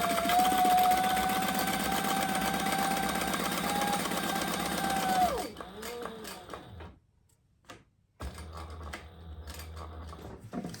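A sewing machine runs steadily for about five seconds stitching rows on a wallet, then stops; a few short mechanical clicks and brief bursts follow after a near-silent pause.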